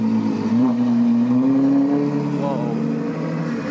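A Ferrari 812 Superfast engine revs and drones loudly as it passes close by, the pitch rising steadily, with voices faint beneath.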